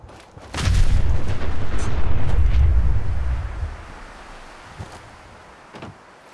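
A grenade blast in Fallout 4 bursts with a sudden heavy boom whose deep rumble rolls for about three seconds and fades, followed by a few fainter thuds and clicks.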